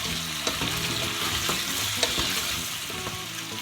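A spoon scrapes and knocks around a pot several times while a potato and chorizo stew with paprika sizzles and bubbles steadily underneath.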